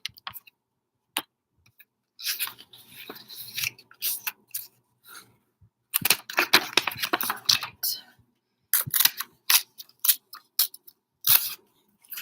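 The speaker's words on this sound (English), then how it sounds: "I do need to cut a few more little papers" Crisp snipping of scissors cutting paper in irregular bursts, close by, with soft handling noises between cuts and a brief spoken remark.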